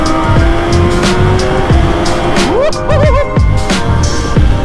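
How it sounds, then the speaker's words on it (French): A 2020 BMW S1000RR sport motorcycle engine, derestricted to full power, revs hard several times, its pitch climbing and dropping between blips, loud and close over a steady engine drone. "L'avantage que j'ai avec cette moto, avec celle-là, c'est que la concession elle me l'a débridée,"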